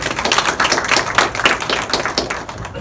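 A seminar audience claps dense, continuous applause to welcome a speaker. The clapping is near and fairly loud, with no voices heard.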